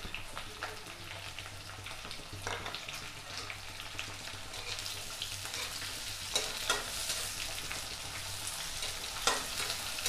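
Chopped onion sizzles in a pan for aloo gobhi, a soft, steady frying hiss with a few scraping stirs and light crackles that grow a bit more active toward the end.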